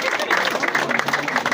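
A church congregation claps in dense, rhythmic applause, filling the room while a voice speaks loudly over the clapping.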